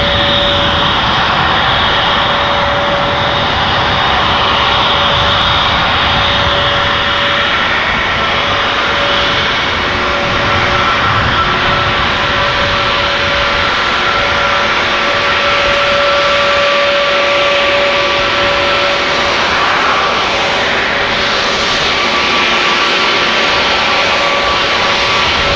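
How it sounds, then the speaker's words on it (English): An Air Astana Airbus A321neo at Amsterdam Schiphol gives off a steady, loud jet engine roar with a high whine running through it, unbroken and without voices for the whole stretch. "This is Air Astana flight 904 A321 Neo to Attila"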